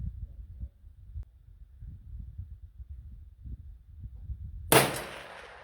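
One loud, sharp gunshot from a 454 Casull rifle on a long-range test, cracking suddenly after several seconds of low wind rumble and trailing off quickly.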